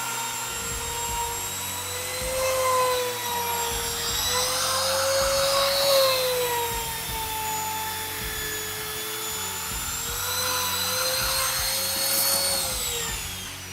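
Power laminate trimmer finishing the edges of a formica sheet, a steady high-pitched motor whine with a bright tonal pitch that rises and dips slightly as the cutter moves along the edge, loud and continuous throughout with no talking.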